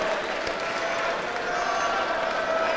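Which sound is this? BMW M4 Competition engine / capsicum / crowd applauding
crowd applauding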